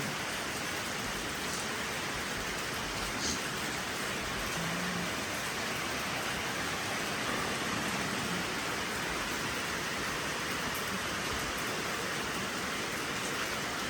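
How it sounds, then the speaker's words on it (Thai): Heavy rain pours down steadily with a constant broadband hiss, gusts of wind blending in, unbroken and fairly distant throughout. "ทั้งฝนทั้งลม"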